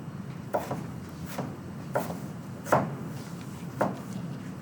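A knife chops julienned vegetables into fine brunoise cubes on a board with about six distinct, unevenly spaced cuts, soft and close, in a quiet kitchen.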